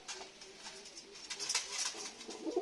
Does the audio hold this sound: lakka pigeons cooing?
yes